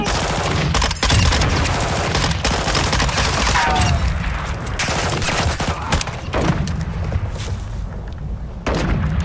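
Rapid automatic gunfire and bursts of shots from a Call of Duty Modern Warfare 2 (2022) multiplayer match, dense and continuous with heavy booming impacts throughout, loud and close.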